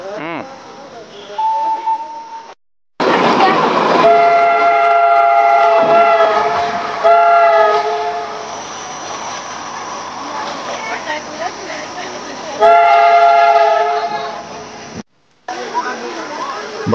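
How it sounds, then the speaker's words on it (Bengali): A Darjeeling toy train sounds its horn in several loud, sustained blasts close by, with rumbling running noise between them. "toy train"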